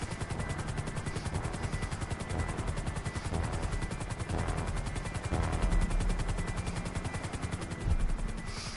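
Helicopter and gunfire in a video game: a constant loud rotor chop runs throughout, layered with rapid bursts of automatic gunfire and a few heavier impacts.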